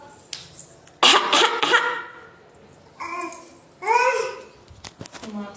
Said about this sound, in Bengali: একটু কেশে দাও